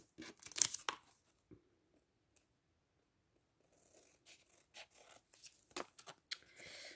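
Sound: scissors cutting paper

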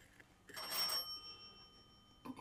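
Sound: doorbell ringing

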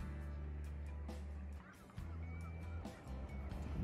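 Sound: seagulls calling

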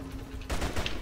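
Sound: gunshot in video game Jet Li: Rise to Honor

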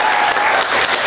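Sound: theater audience round of applause

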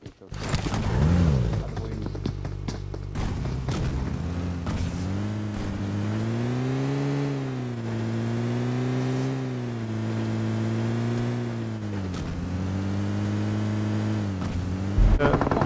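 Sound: vehicle engine driving in PUBG Mobile, a video game

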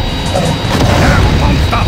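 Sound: crystal cannon firing in Godzilla: Unleashed video game

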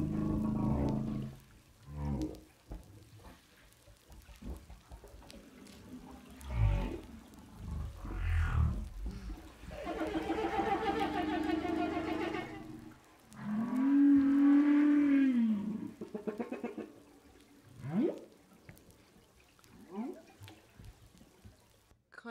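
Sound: humpback whale vocalizations

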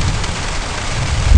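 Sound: thunder and rain

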